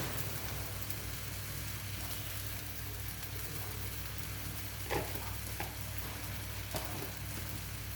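Ground coriander and cumin paste frying in hot oil, a dense continuous sizzle like heavy rain, with a few faint stirring clicks and no talking.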